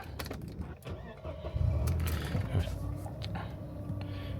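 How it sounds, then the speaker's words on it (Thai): A 1997 Mercedes-Benz C220 W202 engine cranks and catches, then settles into a steady idle close by, with a faint voice in the background. "สตาร์ทรถนะนะครับ"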